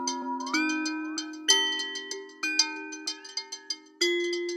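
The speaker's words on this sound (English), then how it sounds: "At higher settings, you start getting timbres that sound glassy or metallic." Resonans physical-modelling synthesizer playing bright, glassy metallic tones, bell-like plucked notes with ringing sustained overtones, struck one after another in a close, clean sequence with no voices.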